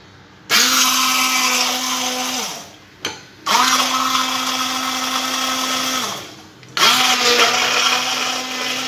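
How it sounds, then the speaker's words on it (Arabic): An electric blender grinds cooked pumpkin into a natural hair cream, whirring loudly in three bursts with short pauses between, a steady motor whine over the churning mixture. "ومن بعد غادي نطحنوها في الخلاط الكهربائي باش نحصلوا على كريمه طبيعيه."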